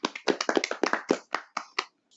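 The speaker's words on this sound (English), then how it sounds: "Let's clap it up for that one, y'all." An audience claps during a Thanksgiving special episode of a talk show, a quick run of distinct, fairly close hand claps that thins out and stops after about two seconds.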